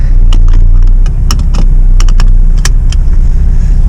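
A Toyota Matrix fitted with Tein coilovers rolls on its first drive, with a loud, steady low engine and road rumble inside the cabin and scattered light clicks and rattles over it.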